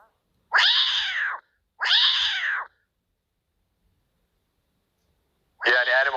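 A frightened cat meows loudly just after an earthquake, giving two drawn-out cries in quick succession, then a pause, then a third strained, wavering yowl.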